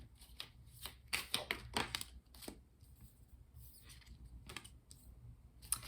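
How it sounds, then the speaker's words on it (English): Tarot cards being shuffled and drawn: soft, papery riffles and flicks in quick bursts, close by and fairly quiet, with brief pauses between. "Let's continue by pulling 7 tarot cards, one for each day of the upcoming week."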